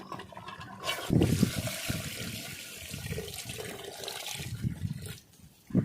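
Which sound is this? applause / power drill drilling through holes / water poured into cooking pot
water poured into cooking pot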